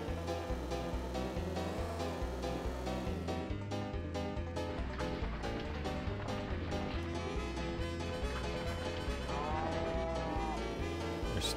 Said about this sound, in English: I just want to make sure I don't hit a cow